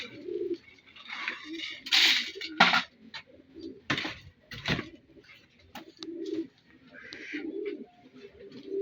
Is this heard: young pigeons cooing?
yes